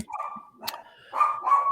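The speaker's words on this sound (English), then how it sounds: "Sorry about the dog" A dog barks indoors in a few short, sharp yips and barks close by, separated by brief pauses.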